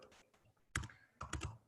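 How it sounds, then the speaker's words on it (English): A phone number being typed on a computer keyboard, two short bursts of crisp, close keystrokes separated by a brief pause in a quiet room. "I keep on typing in my phone number"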